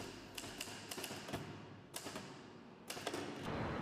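Sharp mechanical typewriter strikes in short irregular bursts, with pauses between clusters, close by over a faint background hum.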